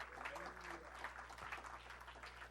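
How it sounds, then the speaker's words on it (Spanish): A Spanish-speaking church congregation applauds God during a Sunday water-baptism sermon, giving soft, steady clapping mixed with voices and a constant low electrical hum. "denle un aplauso al Señor"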